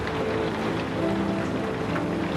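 Rain falls steadily, a dense even hiss of drops spread across a surface, constant and moderately loud with no voices or other sounds.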